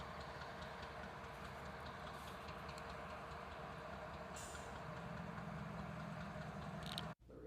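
BNSF freight trains roll along the rails, a steady low rumble with faint clicking of wheels that runs continuously before cutting off abruptly near the end, with no voices.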